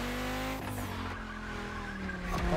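A car drifting in The Crew Motorfest: a loud engine drone that shifts pitch as the tires slide, with a brief squeal and rising revs at the end.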